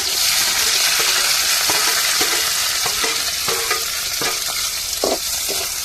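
Onions dropped into hot oil with mustard seeds, frying for a fish puttu dish: a steady, bright sizzle throughout, with scattered crackles and pops from the seeds and stirring, no voices.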